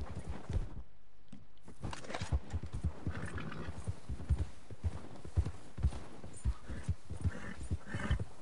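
Horse hooves clip-clop steadily as a horse is ridden through a Wild West video game, a close, rhythmic trotting beat with an occasional snort or whinny and a faint voice.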